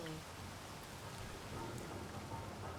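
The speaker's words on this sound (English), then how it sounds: "It's raining a bit at the moment" Steady rain falling in the video game Space Engineers, a continuous even hiss with no clear thunder, quiet and unbroken across the short stretch.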